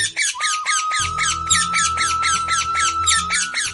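A green parrot with a red beak gives a rapid run of loud, harsh squawks, about a dozen evenly spaced calls close to the listener over a steady low hum.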